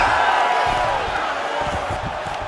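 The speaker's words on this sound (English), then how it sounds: "We'll see if the crowd can be mature about this, DC." Arena crowd in a UFC video game fight simulation, a loud sustained roar of cheering with scattered claps and thuds, and commentary voices over it.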